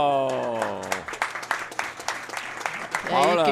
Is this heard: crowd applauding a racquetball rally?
yes